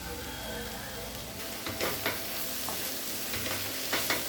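Cabbage masala poriyal with coconut is stirred in a sizzling pan, with a gentle steady fry hiss under several scraping strokes of a spoon, close and moderately quiet, no speech.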